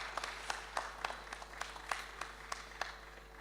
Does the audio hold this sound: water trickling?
no